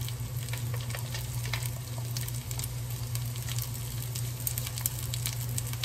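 Mushrooms and garlic fry in butter with a soft steady sizzle, dotted with light crackles and pops over a low hum, fairly quiet and uninterrupted by speech.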